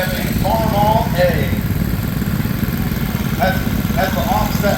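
A 1941 Farmall A tractor with an offset engine idles at a steam power show, giving a steady, close, low mechanical rumble throughout with voices talking over it.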